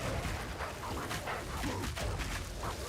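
A rabbit-dog enemy in the video game Elden Ring gives short, yappy barks and whimpers amid dense, noisy combat sounds, heard close and loud.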